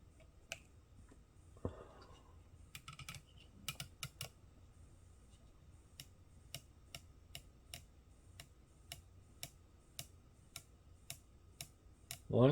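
Small detent clicks from a Realistic Mach 2 speaker L-pad as it is turned step by step, roughly one crisp tick each second, quiet and close, with a few fumbling handling noises at the start.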